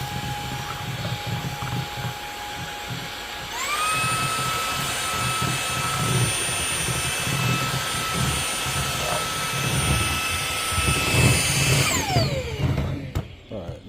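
A Lotus X30 Pro cordless vacuum cleaner hums with a high motor whine that steps up sharply in pitch as power increases, runs steadily while sucking up debris, then winds down at the end, with faint voices at times.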